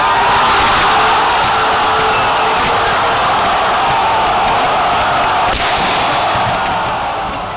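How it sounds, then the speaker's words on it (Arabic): A stadium crowd of Espérance supporters roars and chants after their team scores, a loud, dense wall of massed voices holding steady and only easing near the end. "وتعالت الصيحات والهتافات"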